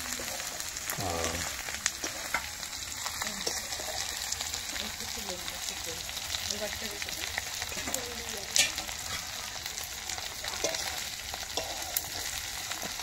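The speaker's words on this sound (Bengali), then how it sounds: "মাছটা কিন্তু লাল করে ভেজে নিলাম" Dried fish frying in a pan over a wood fire, a steady crackling sizzle with occasional stirring scrapes and pops, fairly faint, running throughout with voices talking in the background.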